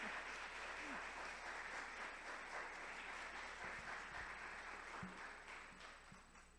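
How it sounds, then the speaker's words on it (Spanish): An audience applauds after a talk, a steady wash of clapping that sounds somewhat distant and thin and stays even for several seconds before easing off slightly at the end. "un fuerte aplauso para…"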